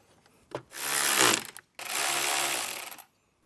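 Screws being driven into a Jeep Wrangler speaker panel, two close whirring bursts from a power driver, each about a second long, separated by a brief pause.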